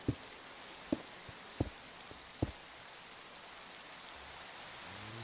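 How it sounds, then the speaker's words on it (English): Rain falling in the Minecraft video game, a steady soft hiss of pattering drops with a few brief louder taps near the start, heard on its own with no talking. "Our poor animals are stuck out in the rain, though."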